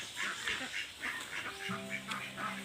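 Domestic ducks quacking in repeated nasal honks on a farm, close and fairly loud, with a steady clamor of several birds and faint talk in the background.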